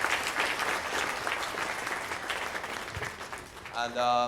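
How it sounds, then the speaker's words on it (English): Audience applause fills a keynote hall after a speech on Metabolic Fusion, a steady dense clapping that holds for several seconds before tapering, with a voice briefly coming in at the end. "so I really give them a round of applause."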